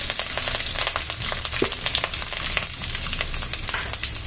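Mustard seeds and asafoetida fry in hot oil in a pan, a dense continuous sizzle with rapid small crackles and pops, close and steady with no talk.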